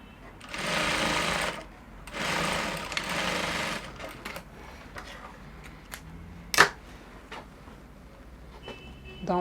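A sewing machine stitches a corset dress lining seam in two steady runs of rapid whirring, each about a second and a half long, followed by quieter handling clicks and one sharp snap.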